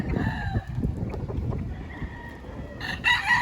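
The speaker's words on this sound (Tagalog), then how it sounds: "Mga gwapong manok." Backyard roosters crow and cluck at moderate distance, one strained crow rising near the end over a faint outdoor background.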